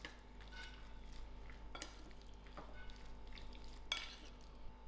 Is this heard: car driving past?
no